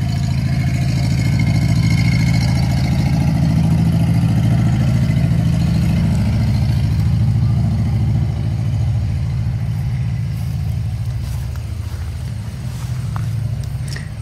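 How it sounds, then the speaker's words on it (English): A tractor engine runs nearby in a garden, a steady low droning rumble that holds loud and continuous throughout, easing slightly toward the end. "there's a tractor"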